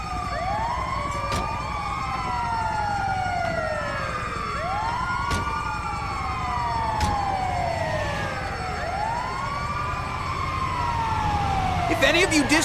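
An ambulance siren in GTA 5 wails in repeated rising and falling sweeps, loud and close, with sharp clanks and game noise cutting in at intervals.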